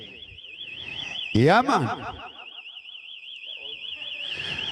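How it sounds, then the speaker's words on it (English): A car alarm wails with a steady warbling siren tone throughout, close and loud, broken by a brief harsh burst of noise; people talk and laugh casually over it. "Hold on, me set out the car alarm."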